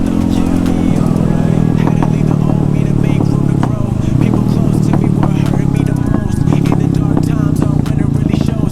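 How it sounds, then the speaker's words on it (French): A Honda Grom motorcycle fitted with a swapped 212cc Zongshen engine idles with a loud, steady, throbbing exhaust and occasional clattering ticks, while people chat nearby. "Oh, il se calme le pot ou ça se passe comment là?"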